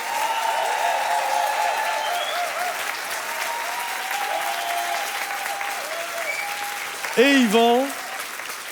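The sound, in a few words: audience applause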